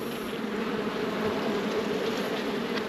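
Honeybees buzz steadily around a nuc hive after being shaken down, a dense continuous drone close by with no talking.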